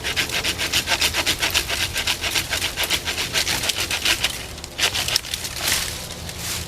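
A portable hand saw cuts through tree branches in steady, rapid back-and-forth strokes, a close and continuous rasp of the blade biting into wood, while trimming around an RV site.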